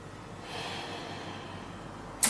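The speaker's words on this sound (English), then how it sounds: "One last breath here." A slow, deep breath drawn in and let out during a yoga session, faint and airy, heard close up with no talk.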